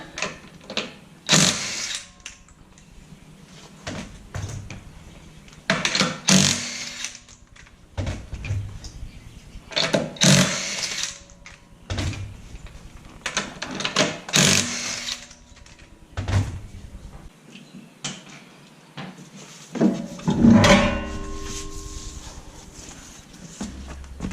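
Mechanical work on the rear wheel of a 2010 Mazda 3 during a rear shock replacement: a 21 mm socket turns the lug nuts in repeated short whirring and clanking bursts, with knocks and handling noises between them, close and moderately loud.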